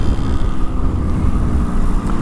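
A Yamaha RX100 motorcycle with a new exhaust gives off a steady, close, low engine rumble throughout, with no talking.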